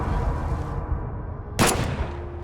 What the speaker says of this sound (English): Then a gunshot rings out.